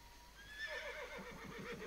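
A horse in Assassin's Creed Brotherhood whinnies in a rising, wavering neigh lasting over a second, fairly close and alone, with faint hoof clops beneath it.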